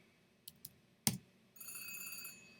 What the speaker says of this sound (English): so on this phone rings is a long phone ring